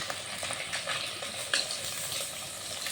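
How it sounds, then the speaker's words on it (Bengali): Large rohu fish pieces fry in hot oil for a home meal, giving a steady close sizzle and crackle with occasional louder spits and stirring, no voices. "মাছ ভাজাটা হচ্ছে দেখতে পাচ্ছ"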